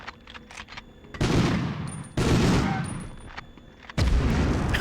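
Video game gunfire in Medal of Honor on the PS1: three loud, booming bursts of shots, each decaying before the next, with sharp crackles between them and no talking.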